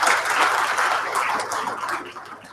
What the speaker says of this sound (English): Can we have another huge round of applause for Vikas and Harshit?